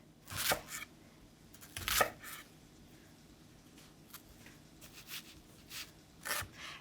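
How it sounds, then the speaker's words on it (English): A knife chops a purple shallot on a cutting board with a few sharp, spaced strikes, two louder ones early and softer taps later, close by with no talking. "now let's finally chop up our shallot"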